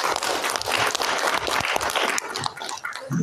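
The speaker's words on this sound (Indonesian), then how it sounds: "Berikan tepuk tangan bagi kita." An audience at an investment seminar in Indonesia claps steadily throughout, a dense wash of applause that thins briefly near the end before swelling again.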